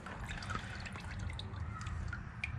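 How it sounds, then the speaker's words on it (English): Coolant drips and dribbles out of the cylinder of a Honda VFR800 VTEC motorcycle during servicing, small irregular drips and trickles scattered over a steady low background noise. No talking. "As you can see, we're getting all the coolant that's sitting"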